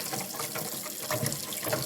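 A baby bottle brush scrubs up and down inside an espresso machine's water tank, giving a steady wet swishing and sloshing of water at close range, continuous with small surges.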